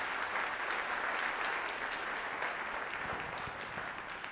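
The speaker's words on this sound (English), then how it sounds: "so give them a nice round of applause." Sustained clapping from a school winter concert audience at an elementary and high school band and chorus event, an even, moderately distant wash of many hands with no break.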